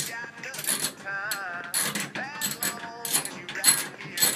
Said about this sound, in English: now we're gonna take the ballast off. It's held on with a couple of nuts on each side.